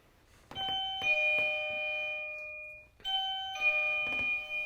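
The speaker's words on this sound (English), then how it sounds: "So we have a battery operated doorbell up here" A battery-operated doorbell chimes twice, each a clear two-tone ding-dong with ringing harmonic tones that decay slowly, the second press following about two and a half seconds after the first, with faint room noise between.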